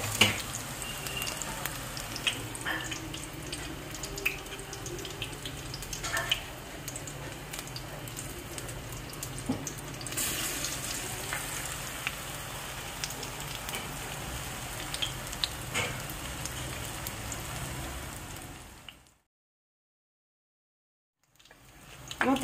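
Paneer pieces coated in gram flour batter fry in hot oil, a steady crackling sizzle with small pops running throughout before dropping to brief silence near the end.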